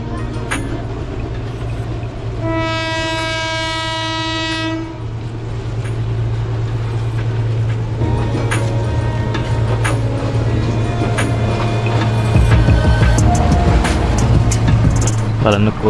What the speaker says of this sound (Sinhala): බලන්නකෝ ට්‍රේන් එක එන විදිය